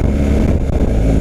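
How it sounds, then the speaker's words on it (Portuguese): A BMW R 1250 GS two-cylinder boxer motorcycle engine rumbles steadily and loudly up close, a dense low-pitched drone that holds throughout with no voices over it. "quando você acelera ela dá aquele torque dos dois cilindros"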